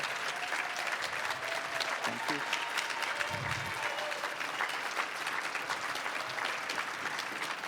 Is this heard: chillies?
no